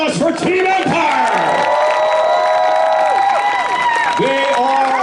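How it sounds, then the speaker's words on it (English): A crowd at the Vancouver Motorcycle Show in Abbotsford applauds and cheers for the Team Empire stunt riders, with steady loud clapping, whoops and shouts, and an announcer's voice carrying over the noise. "can I hear a round of applause for Team Empire?"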